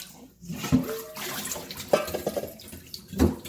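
Water draining out of rinsed sticky rice poured into a basket, an uneven splashing trickle with a few sharper spattering bursts, close by and with no talking.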